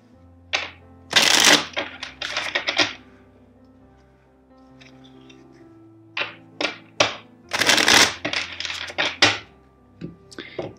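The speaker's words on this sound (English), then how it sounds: "Now, I will shuffle four times" Tarot cards being shuffled by hand in two bursts of brisk riffling and slapping, close and fairly loud, separated by a quiet pause, with no talking.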